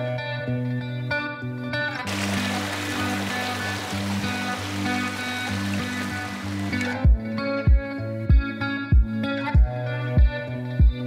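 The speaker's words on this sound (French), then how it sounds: "Moi cette petite cascade." A small mountain waterfall in the Écrins rushes in a steady broadband wash over a loud, droning tonal hum, which then gives way to a regular series of sharp low thuds.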